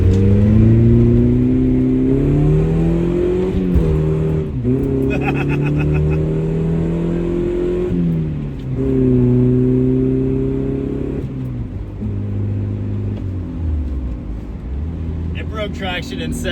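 A 1981 Dodge Challenger accelerating hard on a high-speed run, engine revving up through rising pitches with brief drops at gear shifts, loud and close from inside the car, with a voice talking at moments.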